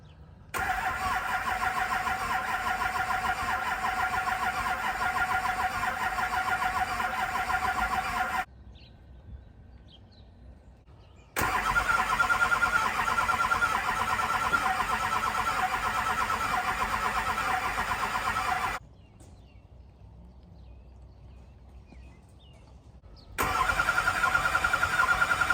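A twin-turbo Duramax diesel truck engine cranks in long sustained bursts, a loud droning starter whir that stops twice for a few seconds of near silence before cranking resumes.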